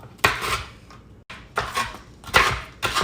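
Knife chopping Oreo cookies on a board for three-ingredient Oreo fudge, several distinct sharp cuts spaced out, close and clear with no talking.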